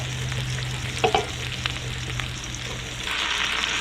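Minced garlic sizzling in a hot pan, a close and even crackling hiss with a couple of brief utensil knocks as it is stirred, swelling slightly toward the end.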